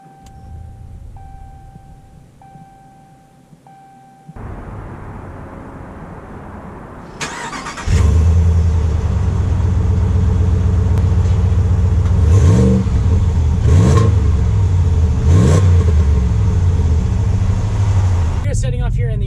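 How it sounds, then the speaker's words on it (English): A 2019 Ram 1500 Laramie pickup truck starts and pulls away, its engine settling into a steady, close cabin rumble with periodic revs and swells while someone talks over it. "let's take the 2019 Laramie 1500 out just to see how it drives"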